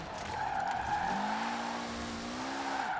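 Mitsubishi car in Forza Horizon 4 spins its wheels, a sustained engine drone with a rising, wavering tire squeal that holds for a couple of seconds, close and loud with no talk.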